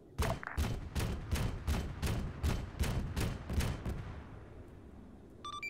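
A rapid run of aircraft cannon strafing in Arma 3, a dozen evenly spaced heavy bursts rolling together over a deep rumble, then fading as the pass ends.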